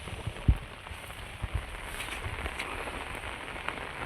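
Rain falls steadily outdoors during crab catching, a soft broadband patter on surfaces with a few close thumps and knocks, and no talking.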